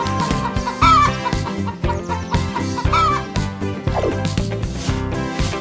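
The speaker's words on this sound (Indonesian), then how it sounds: "Ayam betina." Farmyard hen clucking repeatedly in a steady, busy rhythm, close and clear over a dense background of farm-animal sounds.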